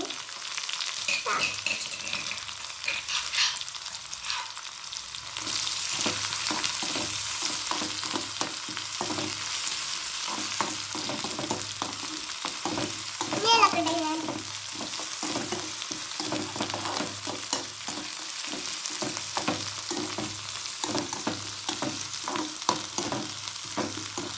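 Onions frying in a home kitchen pan, a steady close sizzle running throughout with frequent clinks and scrapes of a spoon stirring, no talk.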